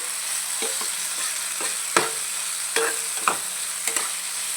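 Onions sauté in a pan for cauliflower and pea masala rice, a bright steady sizzle with a handful of distinct spatula scrapes and knocks spaced irregularly, close and without speech.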